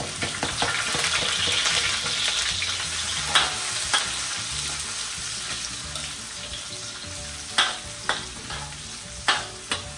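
Garlic and onion sautéing in a pan, a continuous sizzle with scraping and clinking of a utensil stirring, several sharp knocks against the pan toward the end.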